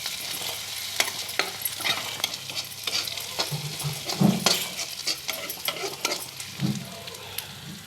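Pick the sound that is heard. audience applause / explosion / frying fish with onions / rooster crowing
frying fish with onions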